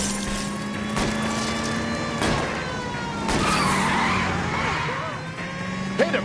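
A car chase in L.A. Noire, with engine drone steady under repeated tire squeals and skids, loud and close, with brief impact thumps and people talking over the pursuit.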